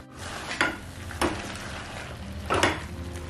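Spinach fries in a pan with garam masala and is stirred, a soft sizzle broken by three distinct scraping or clinking strokes of a spoon against the pan, with no voices.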